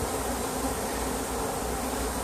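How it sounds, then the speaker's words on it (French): A dense swarm of honey bees pouring into a hive gives a loud, continuous, close buzzing drone that fills the whole stretch without pause or voices. "Et immédiatement les abeilles rentrent dans la ruche."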